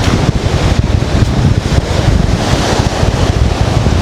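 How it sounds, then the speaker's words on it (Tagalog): Strong gusty wind buffets the microphone in rapid pulses over the steady roar of waves at the shore of Natangco Island, Marinduque. "lakas kasi ng hangin dito guys"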